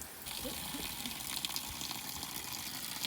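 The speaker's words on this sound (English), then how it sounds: "There's water leaking in the shower." Water runs steadily from a shower in a small log cabin, with a leaking fitting adding a constant hissing rush that is fairly faint, with a few light splashy accents and no speech.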